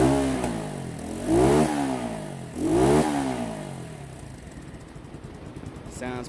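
Two sharp revs from a modified Keeway motorcycle engine rise and fall at moderate distance, followed by a quieter, rough idle with faint background noise.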